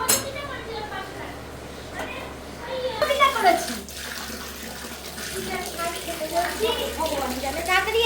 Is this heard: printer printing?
no